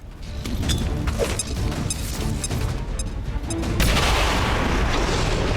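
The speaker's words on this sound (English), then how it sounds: "We'll just use the grenade and be done with it." A grenade blast in the XCOM 2 strategy game: a loud, dense burst of crashing explosion noise with scattered cracks, swelling into a heavier rumble partway through and holding steady to the end, with no talking.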